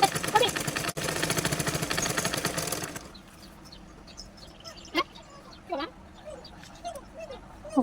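A sewing machine stitches a seam on a pajama or salwar with a loud, rapid, rattling hum for about three seconds, then stops. A quiet background with scattered faint sounds and brief voices follows.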